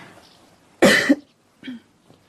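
A single sharp cough up close during a doctor's examination in a Dracula audio drama, followed by a softer second cough and a faint throat sound, with quiet between them.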